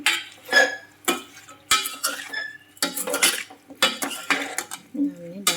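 Pumpkin pieces being stirred in a metal pan with a spoon, with repeated scraping and clinking strokes in a steady rhythm and a faint sizzle, close up with no talking.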